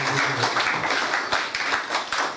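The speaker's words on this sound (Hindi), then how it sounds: "इसके लिए मैं जोरदार तालियां चाहता हूँ" Audience applause following a request for loud clapping for a guest at an organised programme, a dense, sustained wash of many hands clapping fairly close, steady throughout with no talk over it.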